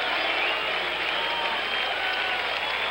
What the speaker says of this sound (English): as we listen to the crowd reaction